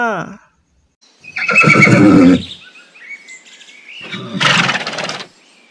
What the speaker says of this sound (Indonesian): Wow, ini adalah kuda.